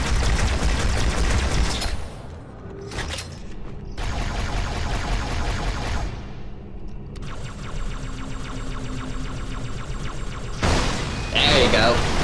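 Rapid plasma weapon fire from the Halo video game rattles in dense, loud bursts, broken by short pauses and mixed with other combat noise.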